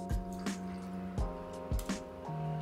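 Bombay gin is measured out for a gin and tonic, with a few distinct close liquid drips and glugs falling in an irregular rhythm, quiet and with no talk.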